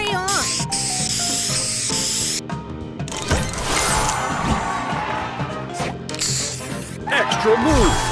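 A spray booster fires in a match-3 puzzle game, a hissing burst among tumbling clatters, bright chimes and busy game effects, with a synthetic voice announcing events over the sounds.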